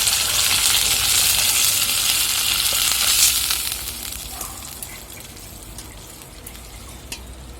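Loud hissing sizzle of water poured into hot egg cabbage gravy in a pan, strong at first and then settling into a softer simmer with small pops.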